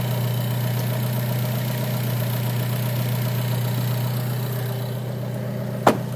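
An Alfa Romeo 4C engine runs steadily at idle, a loud, constant mechanical drone with a low hum that fills the cabin, ending with a brief sharp click near the end.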